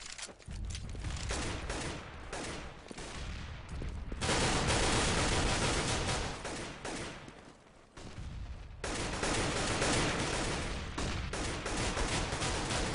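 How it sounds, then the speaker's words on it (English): A prolonged pistol firefight in a Counter-Strike esports match, with rapid overlapping gunshots and dense bursts of fire that continue loudly for several seconds, pausing briefly before resuming. "That's how long that pistol fight went on for there."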